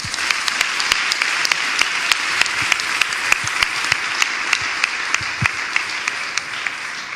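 Audience applause in a large hall, a steady dense wash of clapping sustained throughout, loud and without speech over it.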